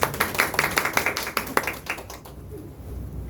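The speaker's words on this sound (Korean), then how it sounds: "박수 부탁드립니다." A small audience at a climate justice seminar on Palestine claps for an incoming speaker, close, brisk individual hand claps that thin out and fade after about two seconds, leaving quiet room tone.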